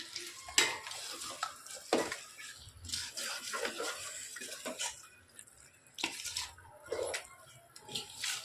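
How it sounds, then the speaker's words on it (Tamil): Chicken biryani made with seeragasamba rice being stirred in a pot just after a handful of coriander leaves goes in, with repeated close scraping and clattering strokes and a soft sizzle underneath, no talking. "ஒரு கை மல்லித்தலை போட்டுக்கலாங்க. நல்லா மிக்ஸ் பண்ணி விட்டுறலாம்."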